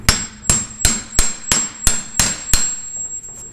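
A hammer beats on the link pins of a VW Split Bus spindle: eight sharp metallic blows land at a steady rhythm about every half second, loud and near, over a faint constant whine, with no talking.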